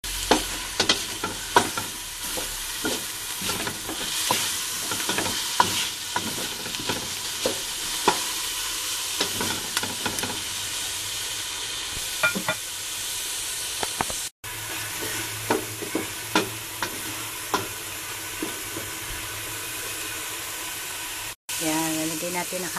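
Chayote stir-fries in a pan with tomato sauce, a continuous sizzle broken by repeated spatula scrapes and knocks throughout, with a voice speaking at times over it.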